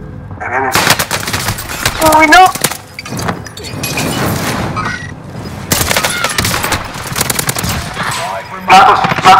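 Rapid automatic gunfire and single shots from a shooter video game, loud and near, in dense bursts across the whole stretch, with excited players talking over the shooting.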